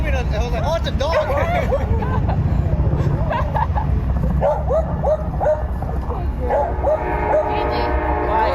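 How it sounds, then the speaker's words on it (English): A dog barks again and again in quick yips and yaps during a winter outing in Chicago, loud and close over steady background rumble and people chatting. "I was like, oh, it's a dog."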